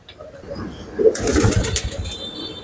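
Pigeons coo inside an indoor loft, soft throaty calls rising into a louder, busier stretch with a burst of rustling partway through, then settling again.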